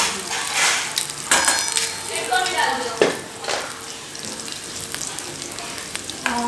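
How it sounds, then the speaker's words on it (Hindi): Oil poured over food in a hot pan while making homemade pasta sizzles and crackles loudly, with several sharp spitting bursts and stirring clatter, continuing without talk. "अभी हम इसके ऊपर तेल डाल देंगे।"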